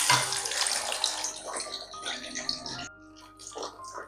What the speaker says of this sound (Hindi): ऑयल को हाई फ्लेम पर गर्म करने के बाद इसमें डाल देंगे फ्राई किया हुआ चिकन।